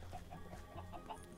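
Soft, rapid clucking of Minecraft chickens repeats in short bursts, faint and close together with no talk over it.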